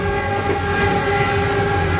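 Steady rumble of a moving Cikuray passenger train with a constant hum and tonal whine, heard continuously from inside a carriage with no voices.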